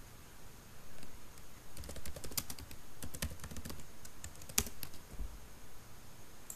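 Quiet, close keystrokes on a computer keyboard come in short irregular clusters of sharp clicks with small pauses between, in an otherwise hushed room.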